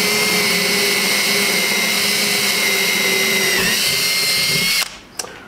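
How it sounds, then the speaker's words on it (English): A loud power drill whines continuously as it bores through material, its pitch dipping slightly before the motor cuts off near the end. "So I'm going to drill a hole"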